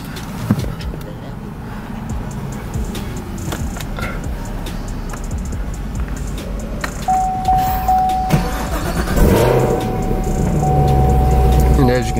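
2020 Chevrolet Camaro ZL1 1LE engine cranking and catching, a chime sounding before the V8 rumble swells and settles, close and loud inside the cabin.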